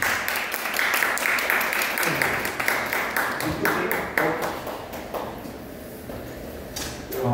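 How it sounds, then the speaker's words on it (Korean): Welcoming applause from a lecture audience for a guest speaker, a dense run of handclaps that gradually thins and fades over several seconds. "박수로 우리 노영기 선생님 모시도록 하겠습니다"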